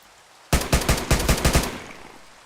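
A rapid string of about eight sharp AK-47 gunshots rings out in a video game, loud and close, lasting just over a second before trailing into a faint echo.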